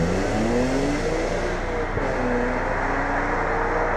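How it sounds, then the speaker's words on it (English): BMW E46 M3 with a 6-speed manual accelerating hard, a loud, sustained engine note rising steadily in pitch through the gears, heard close from inside or near the car. "when you put your foot down in every gear, it goes."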